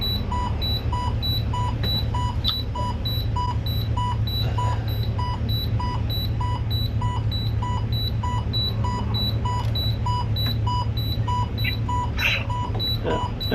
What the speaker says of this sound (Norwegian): Jeg vet ikke hva jeg skal gjøre med den alarmen som går nå